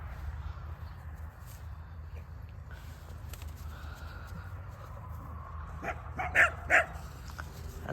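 Dogs give a couple of short, close barks and whimpers at the end while greeting a sheep, over steady outdoor background rumble.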